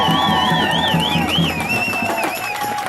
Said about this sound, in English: A big round of applause for the folks who were the organizers.